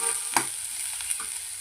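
Onion sautés in a pan with a quiet, steady sizzle, punctuated by a few brief knocks and scrapes of stirring.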